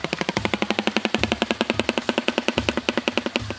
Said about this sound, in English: the clattering sounds a shoebill stork makes